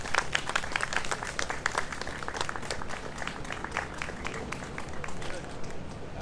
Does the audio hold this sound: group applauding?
yes